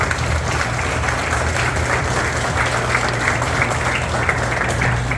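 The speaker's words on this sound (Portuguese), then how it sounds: "Você pode aplaudir Jesus bem forte." A church congregation at a Sunday service applauds strongly, a steady, even wash of clapping from many hands that stays level from start to finish.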